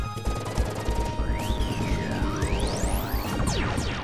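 Dense, loud retro game audio from Contra III: The Alien Wars on the SNES, with continuous rapid weapon fire including the flame gun layered with sweeping synth effects and crashing explosions, no talking.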